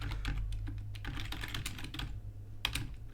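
Steady typing on a computer keyboard during Minecraft command work: dense, rapid clicking keystrokes close to the mic over a low constant hum, with a brief pause and a sharper final tap, no speech.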